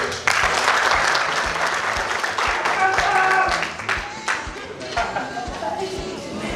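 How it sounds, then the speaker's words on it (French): Audience applause at a youth biodiversity promotion event, lively clapping from a crowd that swells and then tapers off with scattered claps and some voices. "On applaudit."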